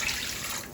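Water pours steadily into a kottu mixture seasoned with crushed black pepper, a short continuous splashing rush with no voices over it.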